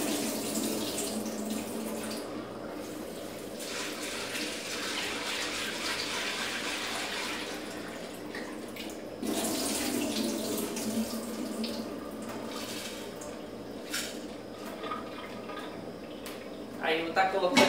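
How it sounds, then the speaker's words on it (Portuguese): Beans are washed under a running kitchen tap, water streaming and splashing steadily into the bowl, with a brief interruption midway and a sharper splash at the end. "Aí eu lavo bem o feijão."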